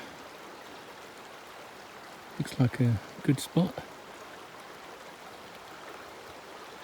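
A river flows steadily beside a hiking track on the Overland Track, its soft, continuous rush heard throughout, while someone speaks briefly over it.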